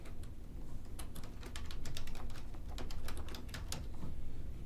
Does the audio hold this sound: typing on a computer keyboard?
yes